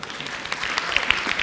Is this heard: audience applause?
yes